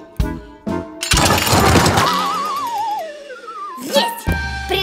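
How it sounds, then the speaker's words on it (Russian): Glass breaking in the Fixiki cartoon: sharp cracks and a shattering crash, followed by wobbling, sliding cartoon effect tones and a few more clinks. "Вы стекло разобьете."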